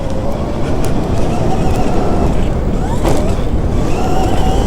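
A mini Stark Varg electric dirt bike whines steadily while lapping a track, its motor and tyre noise loud and continuous, with wind rushing across the microphone.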